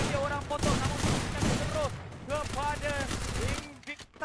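Rapid bursts of automatic gunfire from the battle royale video game Free Fire crackle in quick volleys during a championship final, under excited commentary from casters throughout.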